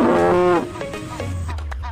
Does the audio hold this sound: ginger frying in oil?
no